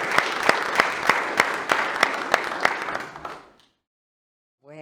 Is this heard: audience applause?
yes